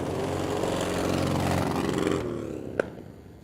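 A drift car's engine revs hard on a race track at Willow Springs International Raceway, a loud buzzing drone that rises and then drops away, ending with a brief sharp knock.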